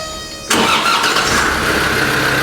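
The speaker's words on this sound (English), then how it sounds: "So we'll crank up the engine and keep an eye on the oscilloscope." A Land Rover Defender TD5 diesel engine cranks briefly, then catches and starts, settling into a steady loud idle close by with no talking.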